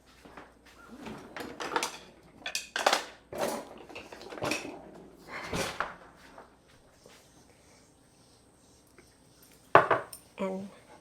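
A utensil stirs melted butter into chopped chives in a bowl, giving scattered clinks and scrapes against the bowl that come in close bursts, with a sharper pair of knocks near the end.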